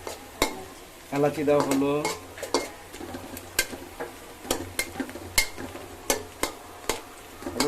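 Spices such as cardamom and bay leaf being stirred in a pot for mung dal pulao, with spoon scrapes and clinks repeating in an irregular rhythm under light sizzling, while a voice speaks briefly early on.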